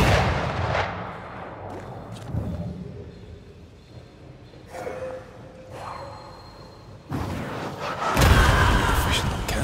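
Cannon fire in a video game: a few heavy booming shots, with bursts near the start and again toward the end, amid quieter stretches.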